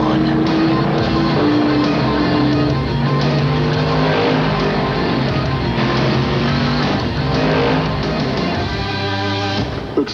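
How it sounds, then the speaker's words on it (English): Rusty Wallace's Miller Genuine Draft stock car roars in a loud, continuous race-engine drone, with revving pitch shifts and a brief tire-squeal edge, layered under music and a narrating voice throughout. "The Miller Genuine Draft Rusty Wallace stock car. It's tearing up tracks everywhere."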